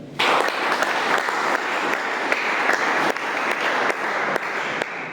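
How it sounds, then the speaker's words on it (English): Audience at a religious gathering clapping to welcome a speaker sharing the word of God: dense, sustained applause that starts abruptly and holds steady for about five seconds, with no voices over it. "Let's welcome him by big clap."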